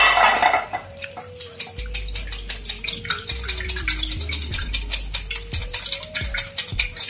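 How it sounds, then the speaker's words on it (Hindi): Leftover water with tamarind pulp strained through a coarse flour sieve in a kitchen, a close wet sloshing and trickling with rhythmic scraping and stirring, loud at first and then steady. "अब बचे हुए पानी को हम अच्छे से छलनी में छान लेंगे।"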